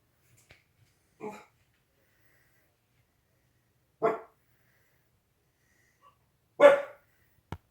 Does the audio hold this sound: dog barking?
yes